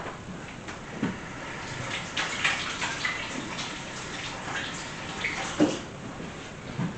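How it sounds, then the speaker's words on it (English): Hands are washed under running water from a kitchen tap, giving a steady splashing hiss with faint bumps and handling noises, close and moderately loud. "let me wash my hands again"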